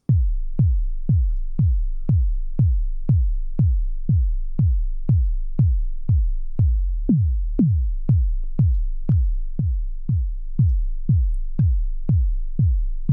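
A deep synthesized kick drum from a TAL Bassline 101 thumping steadily about twice per second, each hit booming and decaying quickly, alone and loud throughout.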